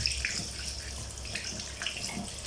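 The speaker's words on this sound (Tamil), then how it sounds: "நல்லா டேப் வாட்டரில் நல்லா வாஷ் பண்ணிக்கோங்க" A crab being washed under a running kitchen tap, with water splashing and hissing steadily close by and small irregular splatters.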